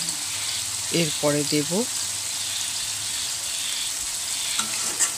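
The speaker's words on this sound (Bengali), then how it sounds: "টমেটো বাটা দিয়ে আবার ভালো করে নেড়ে চেড়ে নেব।" Prawn curry with tomato paste sizzles steadily in a pan as it is stirred, with soft scraping and bubbling under the frying, while a voice speaks briefly near the start.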